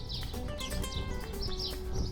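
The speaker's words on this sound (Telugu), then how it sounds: "ఈ బర్డ్ సౌండ్" Birds chirp in a park along a promenade, sounding as several quick, high tweets over a constant low rumble of background noise.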